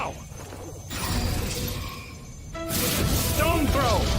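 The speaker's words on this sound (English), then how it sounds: "The silver crosses are shattering." Silver crosses shattering in an anime fight scene, a bright crash and crumbling debris followed by a second burst of breaking with ringing metallic chimes, heard alone without voices.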